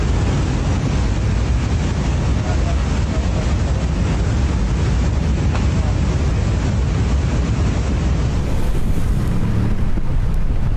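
Fast-moving muddy floodwater from a flash flood surges over a broken road in Pakistan, a dense, continuous roar with heavy wind buffeting the microphone throughout.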